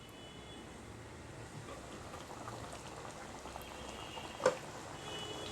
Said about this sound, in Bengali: মাছের খুব ভালোভাবে বলক চলে এসেছে